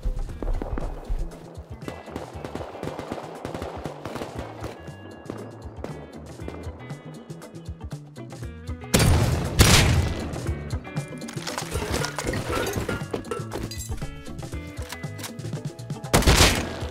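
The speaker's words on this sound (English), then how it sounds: "I hear a lot of people shooting right now" Many players firing at once in the video game Rust, with dense, overlapping volleys and rapid bursts that grow louder and heavier partway through, continuing as a steady crackle of distant and nearby shots.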